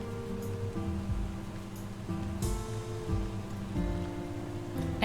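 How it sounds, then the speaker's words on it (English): Rain falling in a video game, a steady wash of dense patter that continues evenly throughout without voices. "Oh, this rain today."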